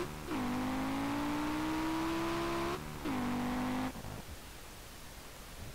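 A sleeper Ford Ka in the racing game SLRR revs hard with a loud, steady engine whine. It holds high, dips briefly, surges again, then cuts off into quiet.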